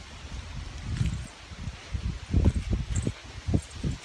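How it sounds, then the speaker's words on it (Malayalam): Wind gusts through garden plants and leaves, rustling in irregular bursts that swell and fade, fairly close, with no one speaking. "കാറ്റുണ്ട് കേട്ടോ."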